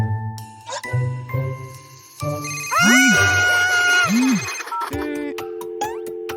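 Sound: telephone ringing

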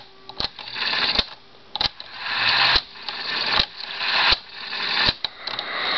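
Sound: CANDLE JT-1107 cassette recorder fast forward and rewind

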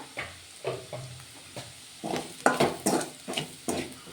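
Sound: carrot and fenugreek curry frying in a pan with chili powder

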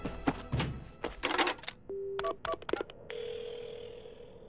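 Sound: telephone dialing to call an ambulance in video game Paranormasight

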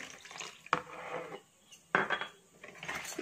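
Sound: mixing eggless cake batter with milk in a bowl

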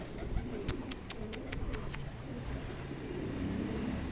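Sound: bird on the roof

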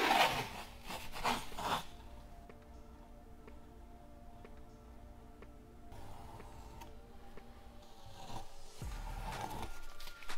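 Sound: sanding a boat engine cowling

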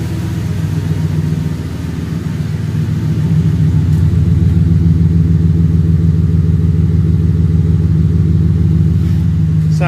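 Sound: truck engine and exhaust running

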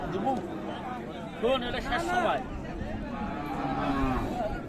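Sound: cow mooing at cattle market

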